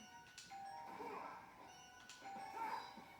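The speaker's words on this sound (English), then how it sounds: "And keep hearing the doorbell ring." A doorbell rings twice, two soft chimes a couple of seconds apart over a quiet background in a Sonic Unleashed game.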